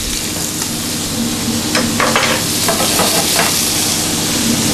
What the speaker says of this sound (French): Vraiment une cuisson vive à l'huile d'olive.